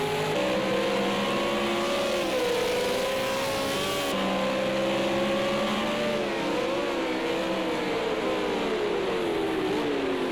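V8 Supercars race cars braking through a chicane at turns 6 and 7, engine notes droning and shifting pitch as they slow and accelerate, heard steadily at moderate distance with no voices.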